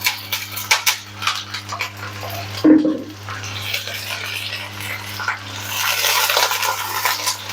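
Water poured into a pan of frying onions for chicken achari, giving a sudden splash and then a broad, steady sizzling hiss that runs on for several seconds over a low kitchen hum.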